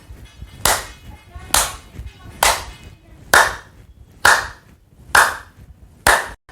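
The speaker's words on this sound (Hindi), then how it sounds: "पहले ताली बजाएंगे ताकि हमारे ब्लड का संचार हमारे शरीर में फास्ट हो जाए" One person claps with arms opened wide in front during a health exercise routine. Six sharp, loud claps land at an even, slow pace about a second apart, with quiet gaps between them.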